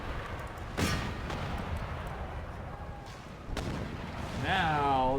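Mortar artillery booms in an Empire Total War battle, with a few deep, heavy thuds spaced seconds apart over constant battlefield rumble, and a whistling, rising tone near the end.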